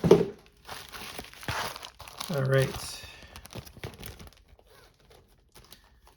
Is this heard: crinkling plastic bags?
yes